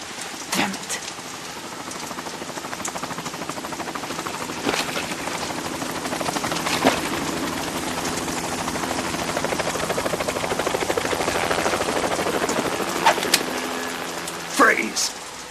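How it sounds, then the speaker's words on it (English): A helicopter in the video game Metal Gear Solid 2 drones loudly and continuously with rotor chop and a rain-like hiss, while voices speak over it and sharp bursts punctuate the noise. "You will be on the helicopter out of here now."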